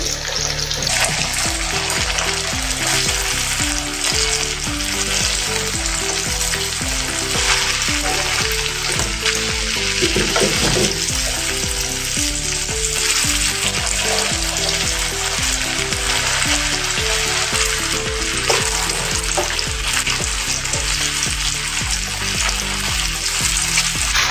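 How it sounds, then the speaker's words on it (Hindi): Moong dal balls deep-fry in hot oil with a loud, continuous sizzle and crackle, steady throughout, broken by occasional scraping and stirring sounds. "बाकी के जो गोले बनाए थे वो इसमें तल देंगे।"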